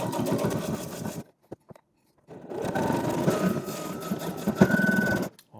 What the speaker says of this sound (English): So when we put this down, it's going to go forward and then kind of go backwards a little bit, back stitch, and then keep going.